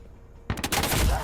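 A wall bang shot in a competitive first-person shooter video game arrives after a quiet moment as a sudden loud burst of rapid gunfire, several close cracks merging into a dense roar.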